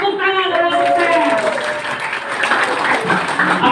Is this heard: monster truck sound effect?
no